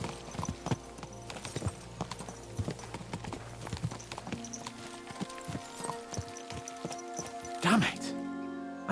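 Horse hooves clip-clop steadily in the medieval video game Kingdom Come Deliverance 2, a quick galloping rhythm running throughout under game music and a spoken voice, with a louder bump near the end.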